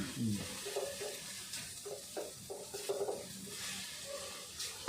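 Pork simmering in a pan until its liquid cooks away, heard as a soft, quiet sizzle broken by intermittent spoon-stirring scrapes and clinks.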